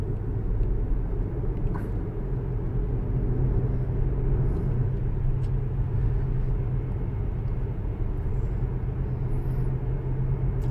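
A Tesla on Autopilot cruises along a two-lane highway, its cabin filled with a steady, loud low road rumble and tire noise that holds unbroken with no voices.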